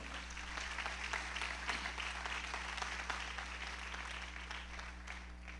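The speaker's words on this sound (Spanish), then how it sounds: "dale un aplauso al Señor" A church congregation claps together during a Spanish-language sermon, a faint, steady wash of applause heard over a constant low electrical hum.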